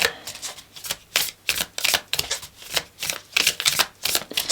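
Cards being shuffled in quick, crisp riffling bursts, repeated about a dozen times in an uneven rhythm, close up with no talking.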